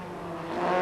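Four-wheel drive, four-wheel steering twin-turbo Nissan Skyline Group A race car in a Macau Guia street race, its engine droning steadily and growing slightly louder over a brief moment.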